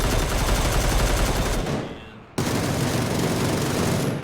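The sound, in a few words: gunfire at a glider in the video game PUBG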